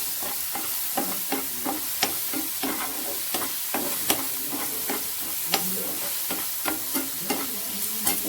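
Tomato and capsicum frying with turmeric and coriander powder in a pan, a steady sizzle broken by regular scraping stirs and light clinks of the spatula, close and without speech.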